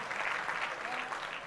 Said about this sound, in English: So you can give us a round of applause as we come up.